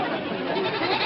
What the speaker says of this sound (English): McGee, get those goats out of here or I'll...